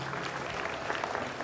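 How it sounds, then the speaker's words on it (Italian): Audience applauding during a speech by Renzi at the Italian Cultural Institute in Lima, a short burst of dense clapping from many hands, steady and fairly loud throughout. "ha fatto partire l'applauso perché ha sentito dire governo"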